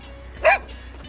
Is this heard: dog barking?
yes